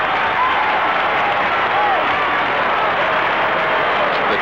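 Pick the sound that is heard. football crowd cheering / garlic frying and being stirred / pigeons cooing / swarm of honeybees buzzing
football crowd cheering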